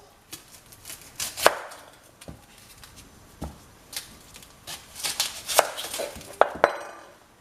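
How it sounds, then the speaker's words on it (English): Onion and tomatoes being chopped with a knife on a board, irregular knocks and taps at close range, some clustered and brisker, with light clinks of utensils between them, no talking. "So I'm going to chop the onion and tomatoes."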